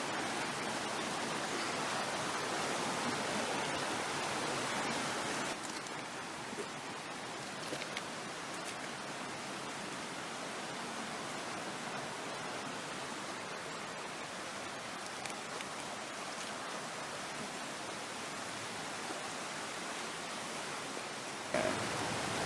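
Floodwater rushing off a hayfield onto a road at an airsoft field after a July flood: a steady, broad roaring wash with no pauses, louder for the first few seconds and then even and constant.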